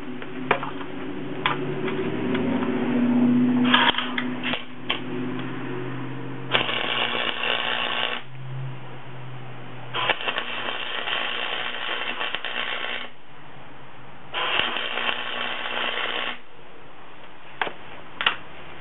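MIG welder tack welding steel pieces, with several separate bursts of crackling arc buzz lasting a couple of seconds each, separated by short pauses and clanking handling noises.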